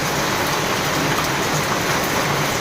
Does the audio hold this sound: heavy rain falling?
yes